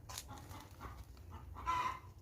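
Chickens on a rural Thai vegetable and flower garden plot, several birds clucking and calling in short irregular bursts, fairly close, with no talk over them.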